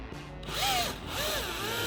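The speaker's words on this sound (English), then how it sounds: "I'm going to drill myself a little pilot hole using this metal drill bit" A power drill with a metal bit bores a small pilot hole into a motorhome roof, a brief rising and falling whine, fairly faint and close, with no talk.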